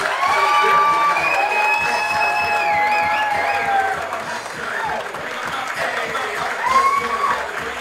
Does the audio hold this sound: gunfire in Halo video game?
no